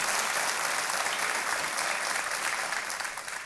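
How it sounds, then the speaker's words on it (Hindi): Dense studio audience applause on a televised quiz show, KBC, a steady wash of many hands clapping at full volume that holds for several seconds before easing slightly at the end. "एक बार फिर तालियां बज जाएं इनके लिए।"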